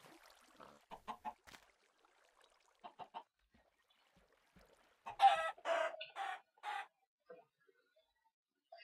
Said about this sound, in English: Killing chickens.